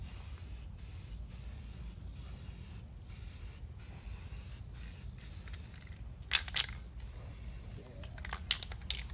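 A spray can lays down paint on the metal shelf brackets of a Char-Griller charcoal grill under restoration: a steady, close hiss that runs throughout, with sharper spurts and crinkling clicks near the end.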